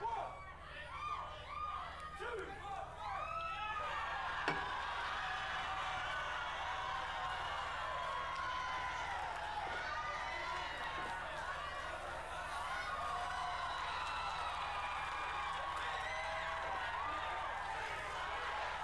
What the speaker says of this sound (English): you can hear the crowd starts to chant Leap of Faith here